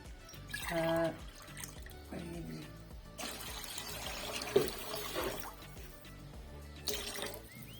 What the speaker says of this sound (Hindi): 6 गिलास चावल थे, हम 6 गिलास पानी डाल दिए।